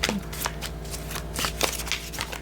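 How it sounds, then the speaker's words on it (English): A deck of tarot cards is shuffled up close, a steady run of crisp riffling and flicking bursts with no talking. "gave that half one last shuffle"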